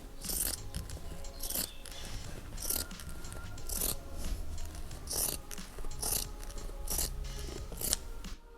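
Scissors snip through cushion fabric in a steady series of about nine crisp, close cuts spaced roughly a second apart, with light rustling of cloth between them.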